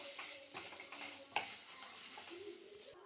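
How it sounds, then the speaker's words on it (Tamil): Okra pieces sautéed and stirred in a kadai, giving a faint steady sizzle with soft scraping strokes and one sharp utensil clink near the middle. "கட் பண்ணால் வெண்டங்காவை போட்டு லைட்டாக வதக்கிடலாம்"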